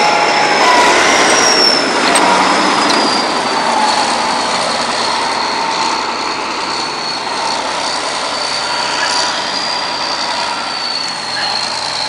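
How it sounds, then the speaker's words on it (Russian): T-40 tractor engine running outdoors in deep winter cold, a steady loud mechanical rumble with a high whine drifting across, continuous throughout and slowly easing in level. "трактор гребет очень хорошо"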